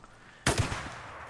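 A single sharp sniper gunshot in the video game Days Gone, a loud abrupt crack with a short echoing tail, alone after near silence.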